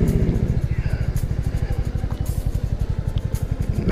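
A motorcycle on a trip ride from Gangtok toward Nathula in East Sikkim idles with a steady, close, rapid low chugging as it moves slowly to find a parking spot.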